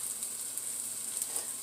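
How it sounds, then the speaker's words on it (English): Kale, spinach and garlic greens sautéing in a pan, a soft, steady sizzle that stays faint and even throughout, with no voices. "I'm going to start sauteing these so that the garlic doesn't burn"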